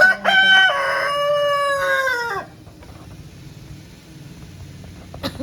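A rooster crows loudly once with a long, ringing call, then the scene goes quiet apart from a faint cluck near the end.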